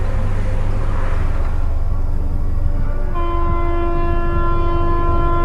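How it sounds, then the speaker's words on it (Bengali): A diesel train rumbles past heavily and loudly, a deep continuous roar that carries on as a long, steady horn blast sounds through the second half, with no talking. "এ ট্রেন ডিজেল ট্রেন, তাই ধোঁয়া নেই, শুধু বুক কাঁপানো গুরুগম্ভীর শব্দ"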